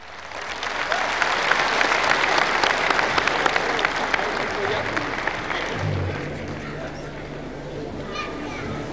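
Crowd applause welcoming a music group at an outdoor public ceremony in Cochabamba, loud sustained clapping with children's voices and crowd chatter mixed in, tapering off near the end as a low hum or tone begins.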